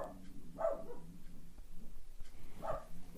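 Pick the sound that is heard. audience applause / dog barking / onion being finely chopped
dog barking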